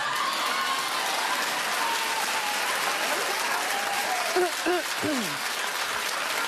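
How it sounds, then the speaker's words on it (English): Steady audience applause fills the room, a dense continuous wash of clapping with some crowd noise and a few voices rising briefly near the end. "clap, gold diggers, clap, go"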